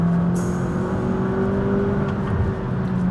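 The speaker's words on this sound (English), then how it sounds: "if you get up in the rev range, it sounds more sport bike than V8" A McLaren 570GT supercar engine held high in the rev range gives a loud, steady, close-up howling drone that never lets up, with no talk over it.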